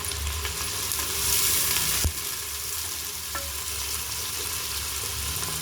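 Two large onions frying in a pot for mutton paya curry, giving a dense, steady sizzle with a brief clatter of stirring, close and unbroken, no talking.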